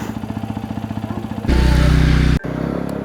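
A BMW motorcycle engine idles with a steady, even thumping pulse, then jumps into a louder, rougher rev for about a second before cutting back to a lower running note, close and loud with no talk.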